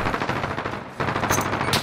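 Sustained automatic rifle fire in a Modern Warfare match, rapid continuous bursts with a brief pause near the middle before firing resumes, loud and close.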